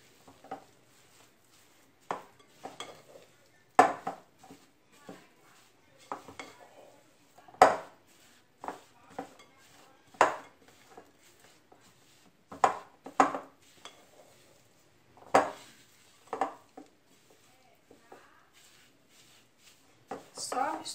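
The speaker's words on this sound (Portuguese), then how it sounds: "Só misturar direitinho" Salt seasoning for meat being stirred in a bowl, a series of close, sharp clinks and scrapes of a utensil against the bowl at irregular intervals with quiet gaps between, no talking.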